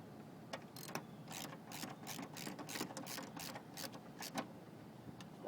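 A ratchet clicks in quick bursts while tightening the power steering pump bolts on a 1990-93 Honda Accord, a close, rhythmic series of sharp clicks over faint background hum.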